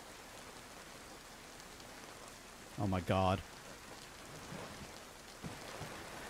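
Steady heavy rain falls in the survival video game DayZ, a constant hiss of drops throughout, while a man briefly exclaims partway through.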